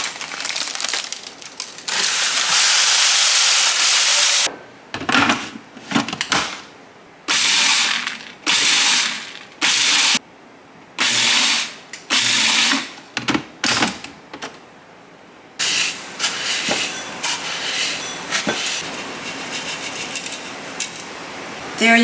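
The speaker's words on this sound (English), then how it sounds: "I'm going to give it a couple little whirls in my food processor just to break up the clumps" A food processor whirls garlic scape salt in a series of short pulses, loud buzzing bursts separated by silent gaps, followed by a longer rattling, grinding run, close up with no talking.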